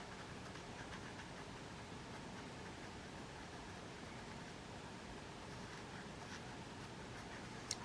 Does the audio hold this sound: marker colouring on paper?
yes